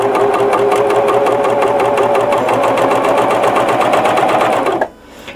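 A sewing machine stitches a seam onto a fabric scrap at the end of a T-shirt seam, a loud, steady rapid whir with a fast mechanical pulse that stops abruptly near the end.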